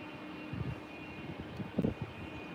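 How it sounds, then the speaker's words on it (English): Emirates Boeing 777 jet airliner at Heathrow, heard as a steady distant engine roar with a faint whine on top and light rumbling bursts, with no talking. "Next up is that Emirates 777."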